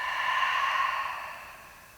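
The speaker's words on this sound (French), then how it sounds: "Expirer par la bouche." A long, soft exhale through the mouth during a vinyasa yoga breathing cue, a close breathy rush that swells briefly and then fades out gradually over about two seconds, with no talking.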